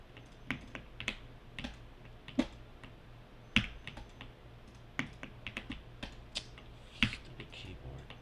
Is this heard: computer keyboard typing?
yes